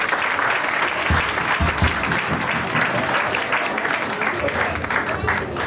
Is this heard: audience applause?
yes